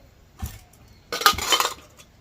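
Boiled chickpeas tipped into a bowl at home, a short soft clatter followed by a louder, denser rush of peas hitting the vessel with faint clinks, all close and without talk.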